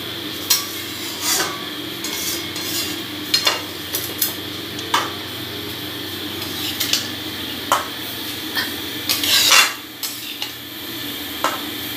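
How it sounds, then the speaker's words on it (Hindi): Biryani mixed in a pot with ghee and spices: a spoon scrapes and clinks against the metal pot in repeated strokes, with a soft sizzle underneath, close by and without talk. "इसे थोड़ा सा आप ऐसे मिला लीजिए ताकि अच्छा मिक्सचर बने"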